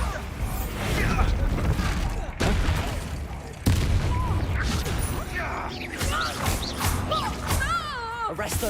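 In Hogwarts Legacy, the Bombarda blasting spell goes off in a series of heavy, close booms and crashes in the thick of spell combat, mixed with sharp impacts and swooshing effects. Voices break through between the blasts.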